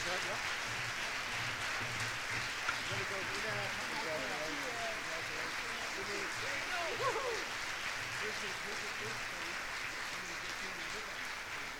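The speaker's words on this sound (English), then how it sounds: "how about a big round of applause for our first place winner" Sustained audience applause for first place winners at the 2017 Excellence in Innovation Awards, a steady wash of clapping holding for about twelve seconds with a few faint voices and cheers.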